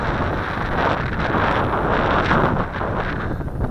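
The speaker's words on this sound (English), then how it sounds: "This wind is picking up." Strong gusting wind buffets the microphone outdoors on a windy day at roughly 15 to 20 knots, where a small Syma X5C quadcopter is being flown; a loud, steady roar persists throughout with no voices.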